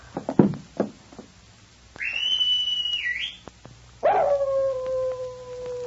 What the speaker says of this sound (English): The animal howled again and raced back up the trail.